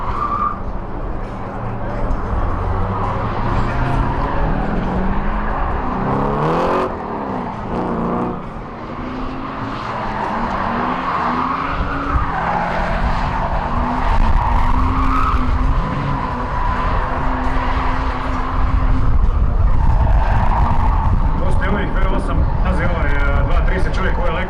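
Drift cars at a Croatian Drift Challenge qualifying round in 2019 skid with long, loud tire squeal and revving engines, continuous throughout as cars slide past, with voices of an announcer or crowd underneath.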